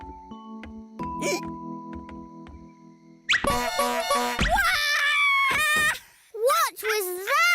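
A toy horn hidden under a chair in a children's cartoon gives a few steady, sustained toots at the start, then lively animated voices take over.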